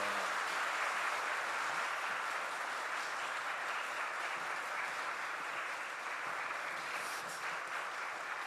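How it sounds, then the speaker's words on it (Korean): A congregation at Osan Baptist Church's special dawn prayer service applauds to welcome the visiting pastor, a steady wash of many hands clapping that holds evenly for several seconds at a modest, somewhat distant level. "큰 박수로"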